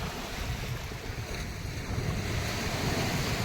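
Small sea waves wash in at Bhayandar's Chowk Chowpatty beach, a steady soft surf roar blended with wind buffeting the microphone, with no voices.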